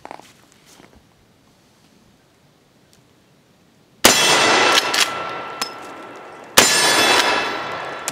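Two sharp reports from a Taylor's 1892 Alaskan take-down lever-action carbine in .45 Colt firing Cor-Bon 265-grain hollow points, each a loud sudden crack with a decaying tail, spaced a couple of seconds apart after a quiet stretch.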